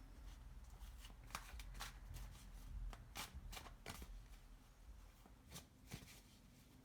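Tarot cards being riffled and shuffled close up, a series of crisp ruffling bursts with short pauses between them, over a low background rumble.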